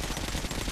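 Sustained rapid gunfire in the video game Metro Last Light, a dense, loud, continuous burst of shots filling the whole short moment with no voices over it.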